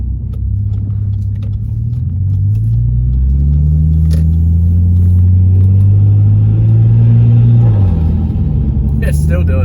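Car engine fitted with a new blow-off valve, revving close and loud with a deep rising and falling rumble, then a brief sharp hiss near the end.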